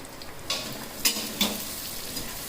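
Sliced onions sauté in oil with a little salt for a Tamil rice-and-lentil dish, giving a soft steady sizzle with a few brief stirring scrapes of a spoon against the pan, fairly quiet and without voices.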